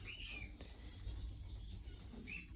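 Pigeon that had been frozen, reviving and calling: two short, high, squeaky chirps about a second and a half apart, close by in an otherwise quiet room.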